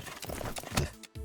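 Galloping horse hooves in a roguelike video game, a quick run of loud, close clip-clop beats with a short break near the end.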